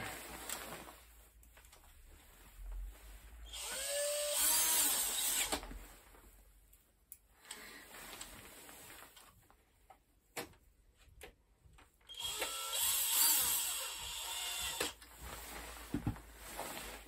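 Screws are driven into the casing of a 5 kW lithium battery pack, with two longer whirring, rattling bursts from a driver and scattered small clicks and taps between them in a quiet room.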